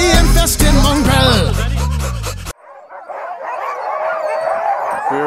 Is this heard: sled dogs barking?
yes